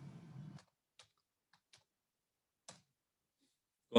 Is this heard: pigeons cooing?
no